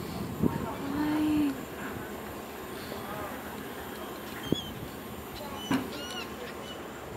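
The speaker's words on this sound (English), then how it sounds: "Wow, the birds are so cute." Geese or other large fowl honk outdoors during an evening stroll near Calabash, North Carolina, a few short loud calls standing out from steady background noise while people talk nearby.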